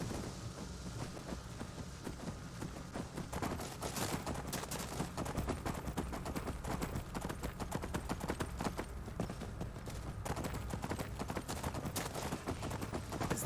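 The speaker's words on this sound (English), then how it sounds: "you can actually ride your horse in Soul Cairn" Horse hooves in Skyrim's Soul Cairn clop in a quick, continuous rhythm throughout, fairly faint but steady, with a rough background wash.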